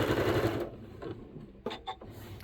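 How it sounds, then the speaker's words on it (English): Sewing machine stitching a straight seam down a length of fabric, a steady loud mechanical whir for the first half, then quieter with a few short bursts of running near the end. "I'm going to take this to my sewing machine and confidently put that under there and stitch all the way down"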